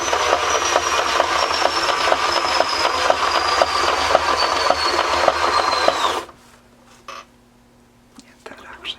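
An acrylic spin pour painting turning on a spinning turntable gives a steady mechanical whir with a gliding pitch, close and continuous for about six seconds, then stops abruptly, leaving a few faint handling noises in near quiet.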